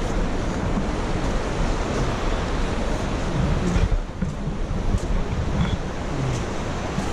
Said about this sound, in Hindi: ये आवाज़ आप लोग सुन सकते हैं पानी का